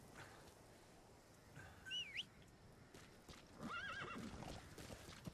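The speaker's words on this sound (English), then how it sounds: "Horse." In the video game Metal Gear Solid V, a horse gives a faint, distant whinny with hoof clops, while birds chirp in the background.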